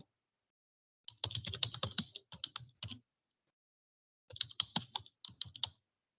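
Login credentials being typed on a computer keyboard: two bursts of quick, close keystrokes, about two seconds of rapid clicking, a pause, then a shorter second burst, with no voices.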